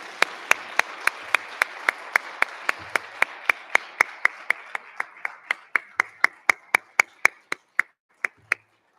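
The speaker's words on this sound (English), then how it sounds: "let's give all of them a round of applause for all of their hard work" Sharp, evenly spaced hand claps at a regional science and engineering fair awards session, about thirty crisp strikes in a steady beat that slows and thins toward the end, with faint room noise between them.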